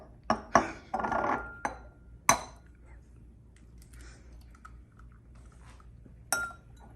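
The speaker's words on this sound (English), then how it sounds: "Now Vanessa, crack the first 2 eggs" Eggs being cracked for a dialysis experiment: several sharp clicking taps on a hard edge near the start, a few more knocks after, and one more tap near the end, close and fairly loud over quiet room tone.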